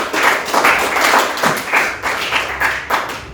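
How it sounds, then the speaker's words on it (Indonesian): Students in a classroom clap for their class discussion after presentations, a steady run of sharp, fairly close claps in a loose rhythm lasting a few seconds. "Tepuk tangan buat diskusi kalian"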